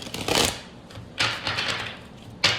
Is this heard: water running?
no